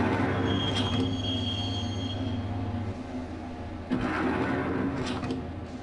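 A subway train in the Max Payne video game rumbles steadily along the tracks, carriage noise loud and close, with wheel squeals and a couple of clunks and rattles over the continuous roar.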